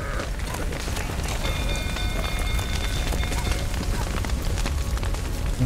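Rain falling in the video game The Witcher 3, a steady, loud wash of broadband hiss that runs unbroken throughout with faint game sounds mixed in.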